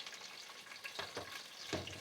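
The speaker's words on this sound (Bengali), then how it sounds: "দিয়ে দিচ্ছি আমি পেঁয়াজ বড় বড় করে কাটা" Coarsely chopped onions fry in oil, a faint, close sizzle with a few quick stirring scrapes over a couple of seconds.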